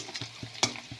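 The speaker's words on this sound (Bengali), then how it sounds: "কাঁচা লঙ্কাগুলো একটু ভাজার পর" Chopped green chilies fry in a pan, giving a quick second of soft sizzling broken by a few scraping stirs of a utensil against the metal.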